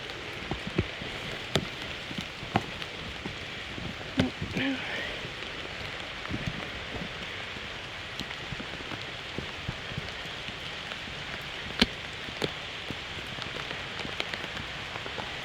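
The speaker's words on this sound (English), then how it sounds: "It's raining." Steady rain falls outdoors near a small waterfall, a dense continuous patter with occasional sharper drops landing close by, carrying on alone at moderate level throughout.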